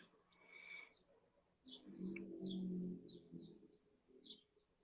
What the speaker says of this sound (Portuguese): E esse som de passarinho aí é fantástico.